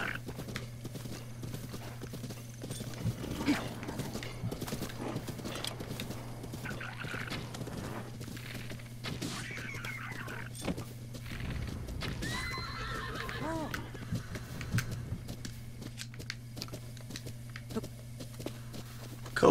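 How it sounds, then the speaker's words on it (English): Horses in Zelda: Breath of the Wild, ridden by Bokoblins, neigh and whinny repeatedly over clip-clopping hooves, with a steady low game hum underneath throughout. "Was it Bokoblins on a horse?"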